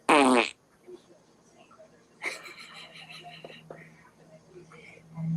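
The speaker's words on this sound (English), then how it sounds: "Hey Google, make a fart noise." A Google voice assistant plays a synthetic fart noise at the start, a short loud burst, followed by quiet whispering and talk from people nearby.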